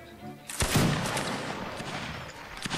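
Gunfire in the video game Mount and Blade: a sharp close shot followed by a ringing, rumbling decay and scattered further pops of a firefight, with some faint voices underneath.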